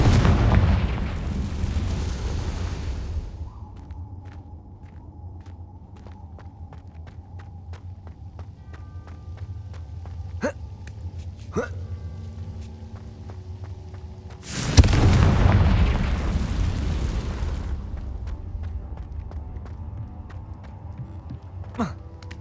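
Confringo blasting spells go off in Hogwarts Legacy, two heavy booming explosions at the start and near the middle, each rumbling for a few seconds, with scattered sharp clicks and soft steps between them.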